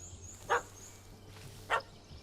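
A dog in The Witcher 3 gives two short, sharp barks about a second apart, fairly faint and set against a quiet background hum.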